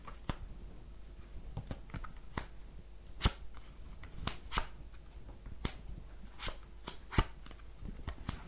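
Tarot cards shuffled by hand during a live psychic reading, giving repeated sharp riffling snaps and soft slaps at an irregular pace, close and fairly quiet with no talking.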